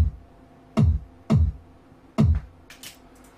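A programmed drum and bass kick pattern plays back as three punchy, booming low thumps in an uneven rhythm, followed by faint higher ticks, with no voices.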